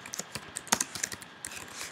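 Comments typed on a computer keyboard, with quick irregular key clicks, close and fairly quiet, alone with no talking.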